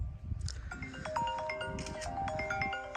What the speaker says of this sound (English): That would be my work phone.